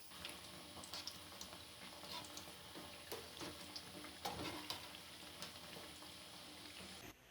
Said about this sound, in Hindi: लो टू मीडियम आंच पर हम दूसरी तरफ से फ्राई करेंगे